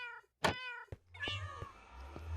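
A Minecraft cat meows several times in short, clear calls, near and fairly loud, with game ambience between them and no talking.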